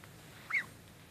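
Muscovy ducks out on a walk as a family give one brief, faint honking call midway through, with soft outdoor ambience around it.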